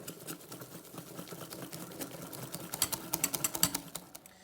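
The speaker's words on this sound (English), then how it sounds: "get in there and whisk it all together with the milk" A hand whisk beats milk into an icing mixture for cinnamon rolls, making soft, quick rhythmic tapping and clicking against the bowl that grows a little louder toward the end, quiet and close.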